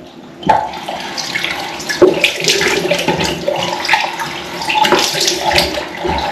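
A tap runs with water splashing and gurgling into a basin, close and continuous after a sudden start, varying as hands move through the stream.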